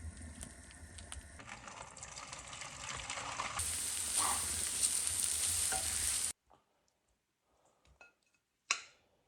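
Truffle pasta warming in a pan with butter and cream gives a steady sizzle with stirring scrapes that grows slightly louder, then cuts off abruptly, followed by near silence and a short final clatter.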